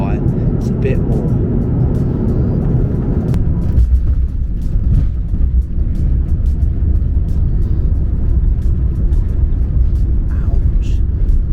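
A Vietnam Airlines Airbus A350 lands hard on a flight to Hanoi: a loud, continuous low cabin rumble, with a jolt and a shift in the roar partway through.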